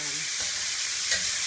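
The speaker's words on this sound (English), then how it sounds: "I've got it on high heat, and it's been sizzling for a while" Steady, loud sizzling of wild-caught pink shrimp frying in a pan over high heat, with a spatula scraping and stirring through it.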